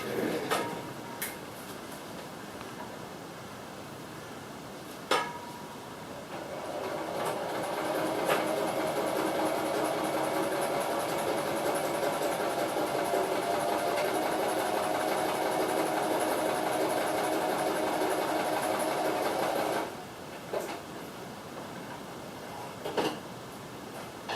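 A sewing machine runs steadily for about thirteen seconds, stitching straight lines through book pages, a loud continuous whirring hum bracketed by a few sharp clicks and clunks before and after.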